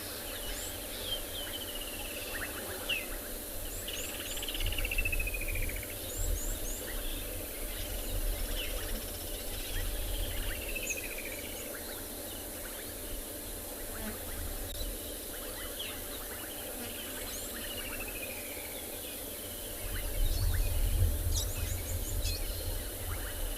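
Woodland kingfishers, bubbling cisticolas and other birds call in a lively sunrise chorus, trilling and descending notes scattered over a constant insect hum, with no talking.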